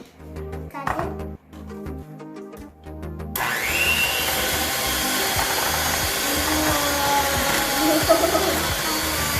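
Kitchen blender whirring as it mixes butter for vanilla cupcake batter, a loud steady motor drone running continuously after earlier quieter kitchen sounds and voices.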